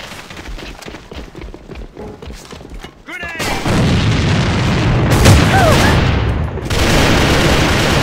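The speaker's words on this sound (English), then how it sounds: "Grenade!" A grenade goes off in a multiplayer shooter during a championship match: a sudden loud, close boom about three seconds in, followed by a sustained roaring blast and scattered crackling that sounds like gunfire.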